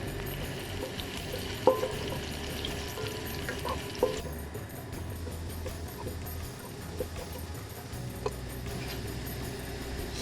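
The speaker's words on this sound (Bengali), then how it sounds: "এলাচ দারচিনি দিয়ে পেঁয়াজটা ভেজে নিলাম" Chopped onion frying in oil with cardamom and cinnamon for chicken biryani rice gives a steady, low sizzle throughout, with a few soft clicks of a stirring spoon against the pot, close and quiet.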